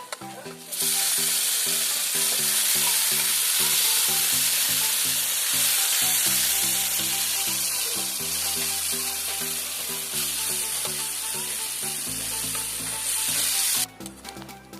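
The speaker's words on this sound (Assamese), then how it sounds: "আগতে কচু আৰু ঔটেঙা সিজাই থৈছিলোঁ। এতিয়া ইয়াত দি দিওঁ।" Boiled taro and elephant apple pieces sizzling as they fry with onions in a pan: a loud, steady hiss that runs almost unbroken, with music playing underneath throughout.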